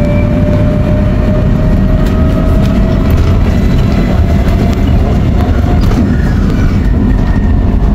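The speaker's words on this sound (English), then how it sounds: "The Sky Train off to the left there." A Vancouver SkyTrain rolls past near Burrard Station, a loud continuous rumble of rail wheels with faint clicking and some squeal, heard from a nearby passing vehicle.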